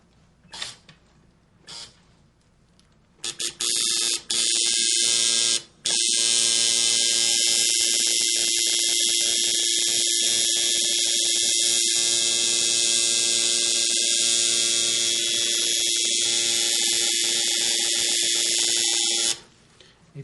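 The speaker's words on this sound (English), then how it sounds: "the machine was actually angled a little bit to the side, but I did go very slow with it" Close-up tattoo machine buzzing steadily for most of the clip while it draws a slow, straight black line, a loud continuous electric whine that starts after a few short bursts and stops near the end.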